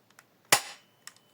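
A single sharp snap of a ZM 17 airsoft pistol firing, close and brief, with faint clicks before and after.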